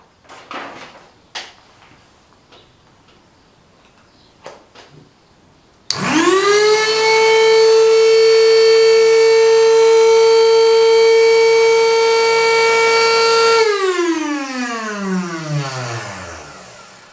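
After some faint clicks and handling noise, a universal electric motor running at half frequency whirs up to a steady, loud whine, holds it, then winds down in a falling tone.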